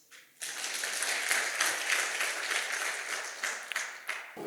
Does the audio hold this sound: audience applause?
yes